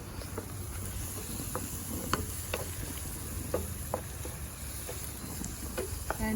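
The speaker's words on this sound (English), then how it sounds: "And mix this all, ginger, garlic, onion, chili." Ginger, garlic, onion and green chili stirred in a pan, with a soft steady sizzle and scattered scraping taps of the spoon, close and moderately quiet, no talking.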